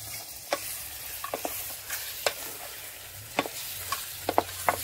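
Mutton sizzles as it hits a hot pan and is stirred. A constant frying hiss runs under repeated crisp scrapes and clacks of a utensil at an irregular pace.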